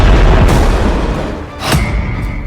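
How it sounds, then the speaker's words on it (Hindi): Heavy explosions from Iran-Israel war news footage: a loud, continuous low rumble with a sharp burst partway through, close and dominant, with no talking. "ईरान और इजराइल की जमीन धमाकों से धड़क रही है"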